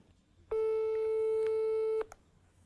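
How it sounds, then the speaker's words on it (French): A single steady telephone line tone sounds while a call is being placed, holding for about a second and a half before cutting off, alone against a quiet room. "Attends, je vais l'appeler."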